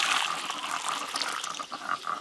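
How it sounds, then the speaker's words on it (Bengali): Broth water from boiled mutton poured out of a pot, a steady watery splashing and gurgling that runs for about two seconds, close by, with no voices. "মাংস সেদ্ধর যে জলটা আছে এটা কিন্তু পরে রান্নাতে লাগিয়ে ঢেলে রেখে দেবো।"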